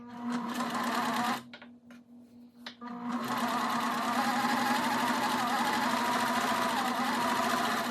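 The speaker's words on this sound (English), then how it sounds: "We're going to sew on the inside." A sewing machine stitching a crochet bag, running in a loud steady whir, pausing briefly for about a second and a half, then resuming and running continuously to the end.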